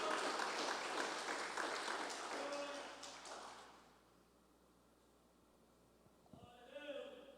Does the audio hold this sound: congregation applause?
yes